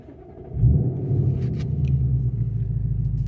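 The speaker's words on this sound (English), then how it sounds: "nice roar to the engine" A 2025 Ford Mustang GT V8 fires up via push-button start, a surge of deep rumbling roar that settles into a loud, steady idle close by, with no talk.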